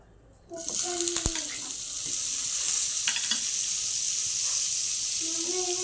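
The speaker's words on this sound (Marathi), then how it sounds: "आता आपण यामध्ये बटर टाकत आहोत" Butter melting and sizzling in a hot pan for cheese garlic bread, a steady bright hiss that starts abruptly and holds, with a few clinks of utensils.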